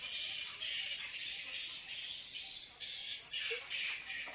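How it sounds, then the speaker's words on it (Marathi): Many birds chatter and squawk together in a big banyan tree, a dense, steady wash of high calls at moderate distance with occasional louder bursts and no one speaking. "वेगवेगळे पक्षी"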